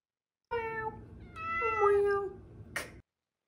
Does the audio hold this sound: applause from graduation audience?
no